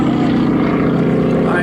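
A heavy North American T6 propeller aircraft flying a fast roll during an aerobatic display at an airfield airshow in Gelnhausen: a loud, steady engine drone throughout, with someone commentating over it.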